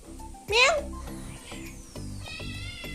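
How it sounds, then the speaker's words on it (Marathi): A single short, high-pitched cat meow rises above quiet background sounds, with a voice nearby. "हे बघा मांजर"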